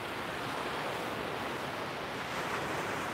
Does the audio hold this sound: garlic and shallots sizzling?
no